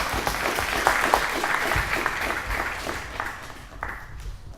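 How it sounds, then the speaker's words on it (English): An audience claps in a brief round of applause during an event introduction, fairly loud at first and tapering off toward the end, with no talk. "So please have a round of applause for them."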